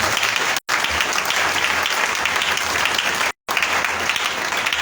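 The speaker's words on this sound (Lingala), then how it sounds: "acclamons très fort le Seigneur" A church congregation bursts into loud, sustained applause, a dense, steady roar of clapping that carries on unbroken apart from two brief silent dropouts.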